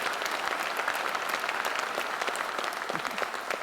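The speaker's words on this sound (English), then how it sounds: "Can we give all of these students a good round of applause?" Steady, dense clapping from a large audience, sustained throughout at an even level with no voices standing out.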